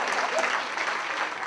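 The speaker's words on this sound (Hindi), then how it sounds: "उनके लिए तालियां" Audience applause at a celebrity charity event for children fighting cancer, a brief, moderately faint wash of clapping from a crowd.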